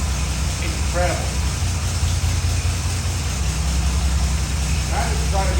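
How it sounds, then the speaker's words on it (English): An old flathead Ford engine runs in a steady, quiet idle with a low even rumble, heard close and continuous while a person speaks briefly over it. "That has got to be the quietest old engine I've heard in a long time"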